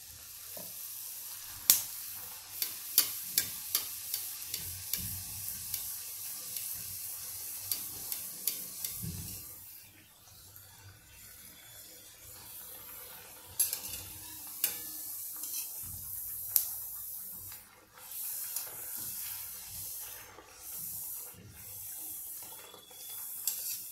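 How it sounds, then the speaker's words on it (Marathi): Ripe banana khaja deep-fries in hot oil with a constant bright crackling sizzle. Sharp utensil taps and clinks come now and then, water runs briefly in the background, and there is no speech. "हा गरम तेलातच तो खाजा तळला जातो"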